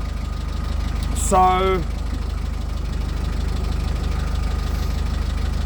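A boat engine with a worn camshaft, damaged from running dry without oil, chugs steadily while cruising, its even rhythmic drone running throughout, with one brief spoken word early on.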